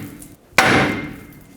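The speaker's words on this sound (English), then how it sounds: "Grab a hammer, hit the knuckle right here." A single sharp metallic hammer strike on the steering knuckle of a 2008-2010 Ford F-250 during front hub bearing work. The loud, close impact rings out briefly and then decays, with no talk.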